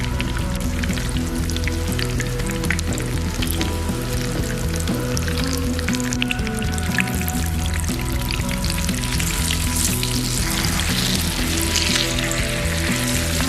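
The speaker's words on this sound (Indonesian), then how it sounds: "Dan goreng sampai matang hingga kecoklatan." Eggplant coated in beaten egg sizzles steadily in a pan, a dense, continuous crackle of frying oil with small pops running throughout, close and unbroken.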